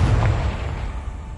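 A Confringo blasting spell explodes in Hogwarts Legacy, a loud, heavy boom with a deep rumbling low end that fades slowly over about a second, with no talking.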